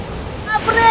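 Rushing water of Durga Falls in the Ajodhya hills, a steady broadband roar with some wind buffeting, rising slightly louder toward the end, with faint tonal traces of a voice in the background.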